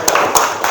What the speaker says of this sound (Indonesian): tepuk tangan untuk Hindi